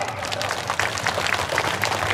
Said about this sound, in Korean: 여러분들 다시 한번 뜨거운 축하의 박수 보내주시죠